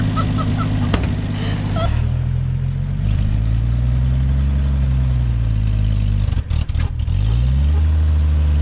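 An old truck engine, just pulled out of a creek bed, runs loudly up close with a rough, clattering idle and several revs that swell and fall, then a brief dip before the engine picks up again.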